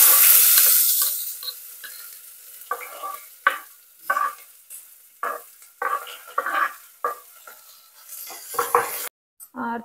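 Onions frying in a pan for a home-cooked healthy lunch, with a bright steady sizzle broken by repeated stirring scrapes and clatters in an uneven rhythm, close and fairly loud, ending in a brief silence.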